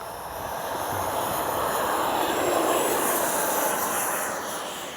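A small 64mm electric ducted-fan RC F-15 jet model roars down a runway on takeoff, a steady loud whooshing whine that swells and then slowly fades.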